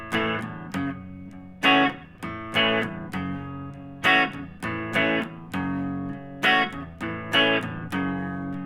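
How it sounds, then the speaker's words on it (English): Distorted electric guitar chords through an amp, strummed in short rhythmic stabs, each ringing briefly before the next, loud and close with no talking. "I got a little distortion going on my amp."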